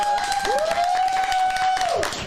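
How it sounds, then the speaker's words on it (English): An audience applauds for the first show of a hip hop program, a dense wash of clapping and crowd noise, with a loud whistle-like tone sustained over it. "let's give a round of applause for the first show"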